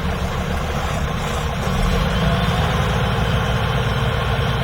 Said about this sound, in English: During the platform operations, the engine is running at idling.